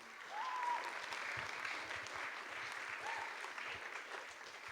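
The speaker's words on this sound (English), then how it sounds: "So a big round of applause for all of you guys and Ray." An audience applauds steadily at a documentary film screening Q&A at Cowichan Centre, a soft continuous patter of many hands at a moderate distance, holding evenly throughout.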